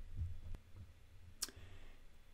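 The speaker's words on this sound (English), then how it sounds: "I'm gonna pull this out, place in my Galaxy Note 8." A Samsung Galaxy Note 8 phone being seated into a Samsung DeX Pad dock gives a single sharp click against a quiet room, preceded by a soft low bump.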